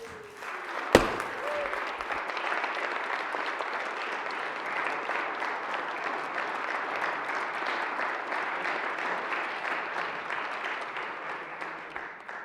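Sustained applause fills a Colorado Senate chamber for the newly elected Senate President, starting with a sharp gavel-like knock and continuing steady and full before tapering off at the end.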